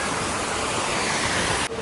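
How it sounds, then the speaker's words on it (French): A small waterfall spills into a koi carp pond at a hotel, a steady close wash of falling water that cuts off abruptly near the end. "Là il y a une cascade et dedans il y a des carpe-koi."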